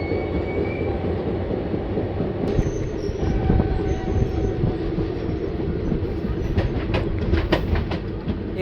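The Patna to Puri special train rolls steadily along the tracks with a continuous rumble and rattle of railway cars, wheels squealing faintly and a quick run of clicking rail joints near the end.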